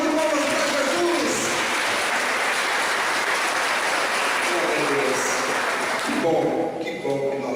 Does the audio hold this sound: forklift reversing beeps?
no